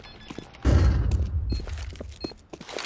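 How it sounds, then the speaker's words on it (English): A flashbang grenade detonates in Counter-Strike 2 with a sudden heavy thump and burst, followed by a rumbling decay and scattered small clicks and footsteps trailing off. "Flashbang out."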